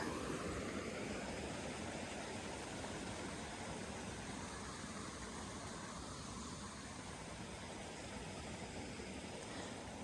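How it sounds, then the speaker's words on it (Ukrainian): A cold mountain stream flows with a steady, even rushing wash that holds from start to finish, soft and unbroken, with no voices. "Шумить водичка."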